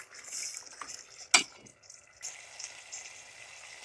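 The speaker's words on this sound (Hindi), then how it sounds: "जो यखनी निकाली थी हमने 1 कप वो डाल देंगे और आधा कप पानी डाल देंगे" Stock and water poured into a pot of browning mutton korma, a soft splashing pour with a sharp clink partway through, then a gentle sizzle and simmer continuing at low volume.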